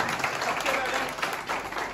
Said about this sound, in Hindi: तैयार तालियों से स्वागत करो